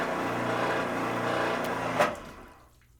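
Water sheets off a freshly ceramic-coated car panel in a steady hiss. A brief splash or tap comes near the end, then it fades to quiet.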